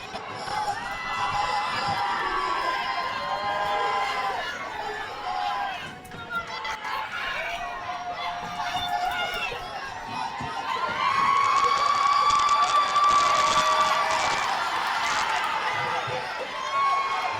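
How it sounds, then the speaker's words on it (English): Spectators at a sports match cheer and shout loudly, a crowd roar with excited whoops and high children's voices that swells again toward the end, continuous and close throughout. "The crowd is going crazy right now."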